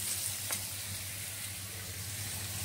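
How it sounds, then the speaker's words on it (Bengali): Beans and vegetables for chow mein fry in a pan with a steady, close sizzle, and a short scraping stir comes near the start. "এবার দিয়ে দিলাম বিনস, সব মোটামুটি একসাথে করে আমি ভেজে নেব।"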